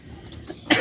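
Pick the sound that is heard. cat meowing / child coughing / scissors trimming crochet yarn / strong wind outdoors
child coughing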